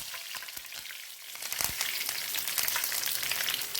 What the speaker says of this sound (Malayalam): എണ്ണ ചൂടായിട്ടുണ്ട് കുറച്ച് കറി ലീവ്സ് നമുക്ക് ഇട്ട് കൊടുക്കാം